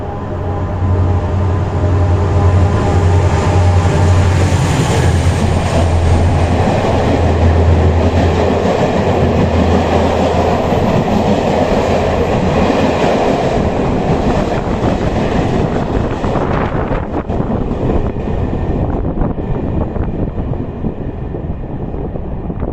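A train from Taza to Fez rumbles loudly past in a Moroccan railway tunnel, a steady roaring clatter that fills the air, then gradually thins as it moves away.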